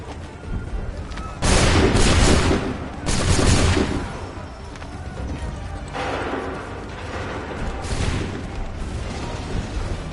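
Two loud, broad crashes of massed musket fire in Assassin's Creed 3, each a dense volley lasting about a second, then rougher scattered shots and rumbling battlefield noise with distant bursts.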